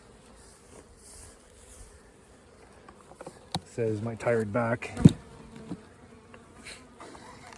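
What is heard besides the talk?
bees buzzing around hives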